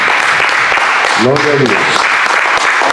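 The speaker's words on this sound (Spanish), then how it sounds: "Y todos podemos decir amén y darle un aplauso al Señor." Church congregation breaks into steady, dense applause during a worship service, a voice calling out over the clapping midway through.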